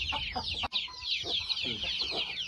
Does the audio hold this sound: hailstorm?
no